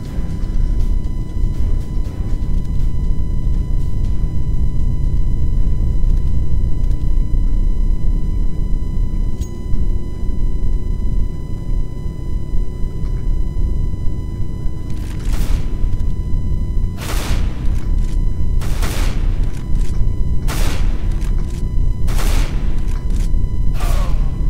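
Gunfire in the video game CS:GO, with a series of sharp, loud shots clustered in the second half over a steady noisy game background.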